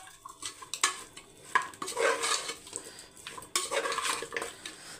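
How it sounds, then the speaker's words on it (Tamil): A spoon stirs a thick mutton curry mixture in a pot, scraping and clinking against the metal in irregular strokes with a soft sizzle beneath, close and moderately loud with no talking. "இப்போ வந்து இதை நல்லா பெரட்டி விட்டுடலாம்"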